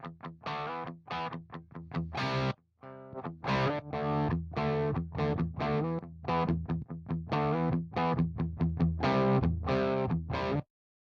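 Distorted electric guitar through an amp simulator plays choppy, crunchy chords and riffs in short rhythmic bursts, with a brief pause partway through before ending abruptly.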